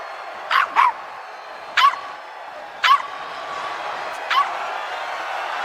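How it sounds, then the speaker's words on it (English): A puppy gives short, high yipping barks nearby: a quick double yip, then three more single yaps spaced about a second apart over a quiet background hum. "He's barking at you, man."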